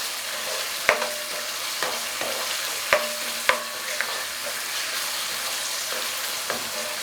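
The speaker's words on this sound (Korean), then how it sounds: "양념이 잘 스며들 수 있도록 볶아주세요." Vegetables, mushrooms and chili oil for jjamppong are stir-fried over high heat, a steady close sizzle broken by several sharp scrapes and clanks of a utensil against the pan, with no voices.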